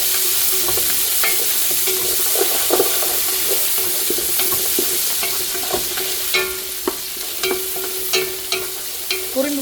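Onion, garlic and green chilies sautéing in a pan, a steady bright sizzle with repeated scrapes and clicks of a spoon stirring against the metal, growing sharper toward the end, with no voices.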